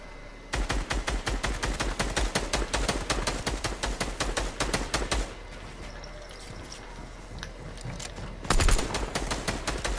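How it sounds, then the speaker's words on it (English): Rapid automatic gunfire in the video game Fortnite: long, dense bursts of sharp shots that stop for a few seconds, then start again with a short, louder burst. No voices are heard. "Shot him a few times."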